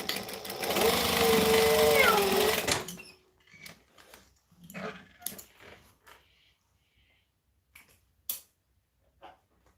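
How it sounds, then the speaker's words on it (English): A sewing machine stitches lining in a fast, loud continuous run for a few seconds, then stops, followed by quieter handling clicks and brief sounds. "All right, sewing across here."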